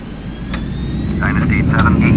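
An airliner's jet engines roar steadily on the takeoff roll at Taoyuan International Airport, the broadband noise building gradually while clipped radio voices talk over it.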